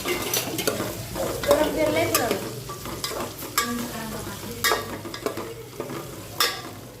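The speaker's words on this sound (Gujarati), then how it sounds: "હવે આપણે ભીંડાને તેલમાં થોડી વાર તળવા દઈશું." Okra frying in hot oil in a home kitchen pan, with steady sizzling and repeated stirring scrapes and clatters close by, alone with no talk.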